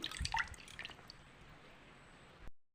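Water drips and trickles off freshly washed, cut taro stems, a few small close splashes at the start that quickly fade into near silence.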